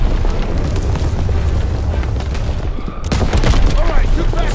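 Gunfire and explosions fill a 1944 World War II battle scene in Operation Cobra 1944: a loud, dense fusillade of rifle and machine-gun fire under rumbling booms, dipping briefly before another burst of heavy shooting.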